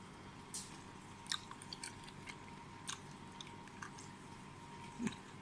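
Crispy-skinned roast pork from a rocket oven being chewed, soft faint crunches and squishy bites at irregular intervals over a quiet background, no speech.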